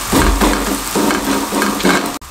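Peshawari chapli kabab fries in a pan with a loud, close, continuous sizzle, while repeated stirring or scraping strokes come in a steady rhythm.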